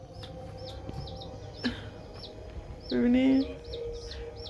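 Two small pet chicks peep in quick, repeated high chirps throughout, close by, while someone speaks briefly over them.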